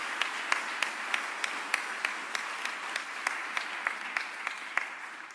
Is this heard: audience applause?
yes